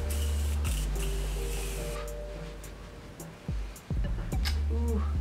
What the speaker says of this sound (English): after we spray.